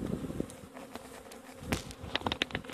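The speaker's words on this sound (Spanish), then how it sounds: "tenemos ahí todas las abejas" A soft, steady buzzing of a honeybee swarm, low and somewhat distant, with scattered small clicks and knocks over it.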